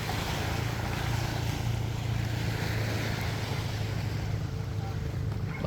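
Several motorized outrigger bangka boats towing together on open water, their engines droning steadily and loudly under wind and water noise throughout.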